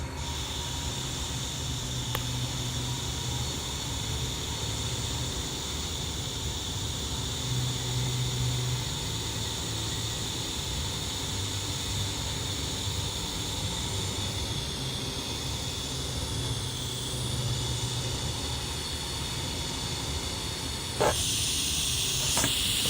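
TIG welding of titanium with filler rod and a trailing gas shield, laid down in small dabs: a steady close hiss of arc and shielding gas runs throughout, with soft pulsing changes as each dab is made.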